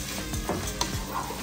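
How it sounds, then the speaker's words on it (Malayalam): Soaked, drained rice frying in spices for biryani gives off a close, continuous crackling sizzle, with a few soft scraping stir sounds. "ആ അരിയെ ഒന്ന് നമുക്ക് ഇതിലിട്ടൊന്ന് മൂപ്പിക്കാം."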